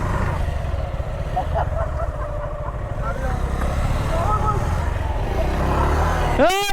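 A motorbike rides over sand beside the Jadukata river at Tahirpur, Sunamganj, its engine a steady, loud rumbling drone mixed with wind buffeting that swells briefly near the end.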